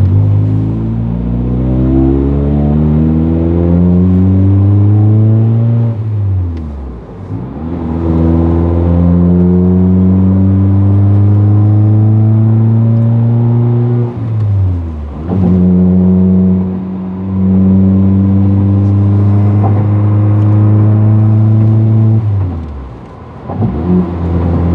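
A loud car engine revs and accelerates hard through the gears, its pitch climbing again and again with a brief drop at each shift, close and continuous without any voices.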